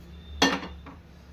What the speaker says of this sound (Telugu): వెలిగించుకొని ప్యాన్ పెట్టుకున్నాం